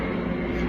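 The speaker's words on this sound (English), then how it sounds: "Helicopter." A helicopter flying overhead gives a steady, loud, broadband rumble and whoosh that fills the whole brief moment without letting up.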